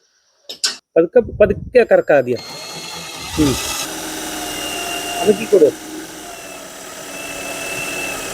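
Power tool driving screws into a polycarbonate roofing sheet: several short sharp bursts of driving and clicking up close, followed by a longer grinding whir, with people talking around the work.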